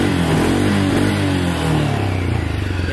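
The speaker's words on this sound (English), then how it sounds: "And it's revving much higher." A Can-Am DS250 ATV with its carburetor spacer removed revs close to the listener. The engine note is loud and continuous, rising and settling with a slight clattering edge, and there is no talk.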